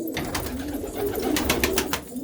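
Pigeons in a loft, including a golden pigeon, coo softly and continuously, a close, low, murmuring chorus with no talking.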